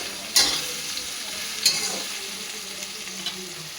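Garlic paste frying in a pan while a katla fish dish is cooked, giving a steady close sizzle with two sharp clinks of stirring near the start.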